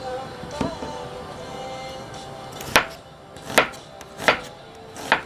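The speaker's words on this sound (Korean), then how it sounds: "그냥 적당한 크기로 썰어 주세요." An onion being cut with a knife on a board for hangover ramen, four sharp chops spaced about a second apart over a low background hum, close and distinct with no talking.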